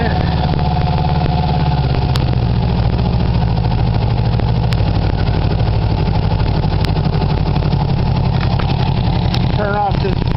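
A motorcycle fitted with a gasoline vaporizer idles steadily as it warms up on choke. The engine chugs loud and close, with faint background noise and no talk.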